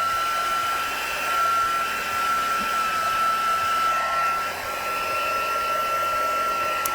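A handheld heat tool blows a steady, loud, continuous rush of air to dry VersaMagic stamping ink on paper. It runs alone for several seconds with a faint whine, no talk.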